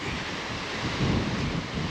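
Strong wind roars steadily outdoors, buffeting the microphone in broad rushing gusts that swell and ease slightly, with no talk.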